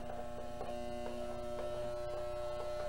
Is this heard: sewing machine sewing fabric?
yes